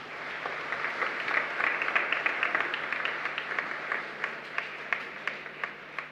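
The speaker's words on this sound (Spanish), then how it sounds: "Fuerte aplauso para ellos." Congregation applause for the technical team broadcasting a live Mass at San Blas parish in Loma Pyta, Asunción, with distinct individual claps standing out from a moderate, somewhat distant crowd clapping at an even level.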